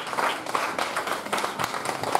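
A church congregation applauds together in praise during a French-language worship service, a steady wash of clapping with irregular louder bursts, moderately near and continuous throughout.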